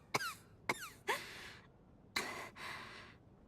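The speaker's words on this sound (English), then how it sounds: "That was a squeaky cough" A character in the video game Judgment lets out a series of squeaky coughs, several sharp high-pitched bursts with airy breathy tails, close and fairly quiet, spaced irregularly.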